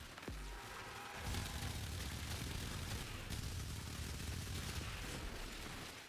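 Sustained, dense gunfire in Warframe while charging headshots against armored enemies, a loud continuous barrage of rapid shots and impacts filling the whole stretch after an opening burst.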